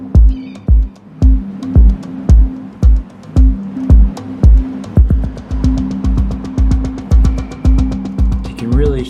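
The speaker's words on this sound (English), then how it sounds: "You can really hear that even the kick is getting repeated" A DJ delay effect repeats a whole track, kicks and hats included: punchy thumps in a steady rhythm that gradually speed into denser repeating hits, loud and alone.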